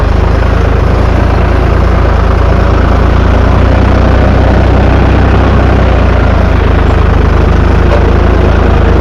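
A Same Frutteto tractor runs with a hitched orchard sprayer for olive fly treatment, its agitator switched on; a loud, close, continuous engine drone with a steady mechanical churn holds unchanged throughout.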